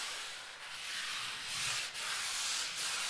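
Green sandpaper rubbed by hand across a wall to knock down small ridges, a steady close scratchy rasp with brief pauses between strokes, no talking.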